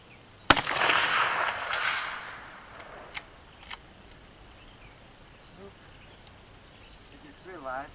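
A single loud gunshot sends a Lee 180-grain round-nose cast bullet toward a 280-yard steel target outdoors, a sharp close crack trailing into a rolling echo, followed by faint distant knocks and birdsong.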